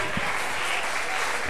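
A stand-up comedy audience claps in a brief, steady burst of dense applause that fills the room, with some voices mixed in.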